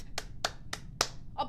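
Four sharp, evenly spaced hand claps close by, followed by a softer fifth clap, in a quiet room.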